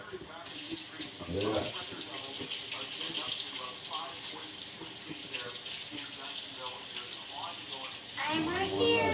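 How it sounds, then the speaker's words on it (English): Hot water running from a tap in a steady splashing gush, close and fairly loud, with a voice speaking briefly over it. "And then we get some hot water."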